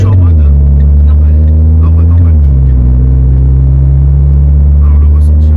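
Renault Clio 4 RS Trophy engine droning steadily while driving gently in normal mode, a loud, low in-cabin hum with a slight pitch rise then drop midway before settling.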